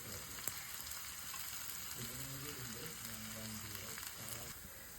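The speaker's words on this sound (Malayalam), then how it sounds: "ഇനി ഇതെല്ലാം കൂടെയാണ് നമ്മളൊന്ന് വറക്കുന്നത് കേട്ടോ" Curry leaves and thinly sliced potato sizzle in a hot pan, a soft continuous crackle and hiss with faint stirring, gentle and close, with no talking.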